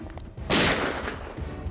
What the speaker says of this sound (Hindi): गोली चलने की आवाज आई।